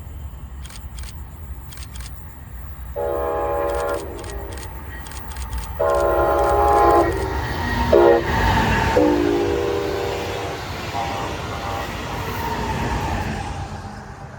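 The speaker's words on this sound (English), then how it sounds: "here rounding the curve into Cocoa Beach is BLF 703, on its way from Miami Central Station to Orlando International Airport" A Brightline passenger train rounds a curve on the FEC mainline near Cocoa Beach, sounding several long horn blasts over a steady rumble of wheels on rail, with camera shutter clicks.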